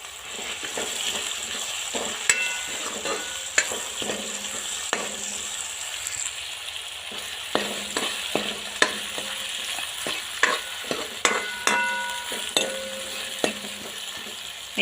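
Tempering for dal with tomato, salt and turmeric frying in a pan, a steady moderate sizzle with repeated spoon scrapes and metallic taps against the vessel, no talking.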